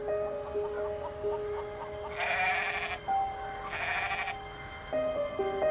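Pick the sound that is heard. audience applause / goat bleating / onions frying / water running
goat bleating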